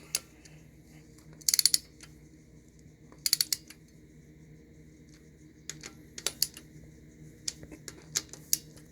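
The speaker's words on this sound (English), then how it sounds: "So we're going to go ahead and torque these down." A torque wrench tightens connecting rod caps on a 1994 SVT Mustang Cobra 5.0 engine, giving short bursts of sharp ratcheting clicks spaced apart, close and crisp over a quiet background.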